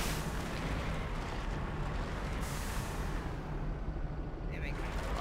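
Missile explosions in the Mass Effect video game form a dense, continuous roar of overlapping blasts, with a voice faintly beneath the rumble.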